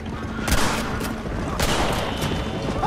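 Gunshots in Red Dead Redemption crack out as a few scattered sharp reports over a dense, noisy battle backdrop, moderately loud.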